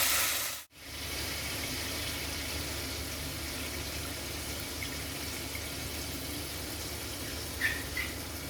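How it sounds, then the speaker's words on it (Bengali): Mustard paste mixed with water, for a pomfret fish curry with mustard and poppy seed, is strained through a sieve, making a steady, even trickle and wash of liquid that runs for several seconds with no talk. "আমি একটু জলে গুলে নিয়ে ছেঁকে নিচ্ছি"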